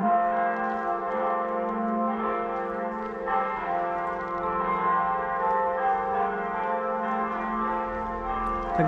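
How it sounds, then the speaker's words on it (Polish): Church bells ring continuously from a distance, a rich overlapping metallic peal heard from inside a quiet house, steady and moderately loud with no talking. "Do tego te dzwony teraz dochodzą."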